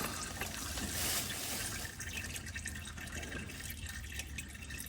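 Engine oil draining from the oil filter area of a Vauxhall Mokka 1.6 CDTi, a continuous trickling, splattering liquid flow, heavier at first and then slightly lighter, close and steady with no talking.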